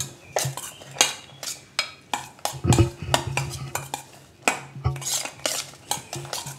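Chaat masala is mixed in a bowl with a spoon, giving close, rhythmic clinks and scrapes of metal on the dish repeating steadily throughout.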